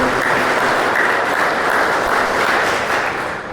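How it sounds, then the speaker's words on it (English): Crowd applause at an Airbus announcement for tornado relief in Andover, a sustained, even roar of many hands clapping that eases off slightly at the end. "I know all of us would love to give a round of applause for Mayor Price."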